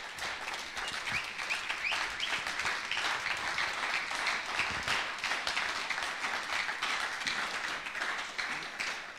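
A church congregation applauds in a sustained, dense wash of clapping that continues unbroken for several seconds at steady loudness, with faint voices mixed in.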